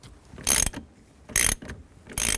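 A ratchet tightens the nut on a 2003-07 GMC Yukon steering wheel, three short bursts of rapid, close clicking separated by brief pauses.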